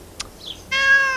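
A cat being chased lets out a short, clear meow, alone and fairly close, after a few faint small sounds.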